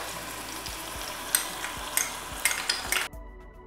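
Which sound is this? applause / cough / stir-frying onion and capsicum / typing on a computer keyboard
stir-frying onion and capsicum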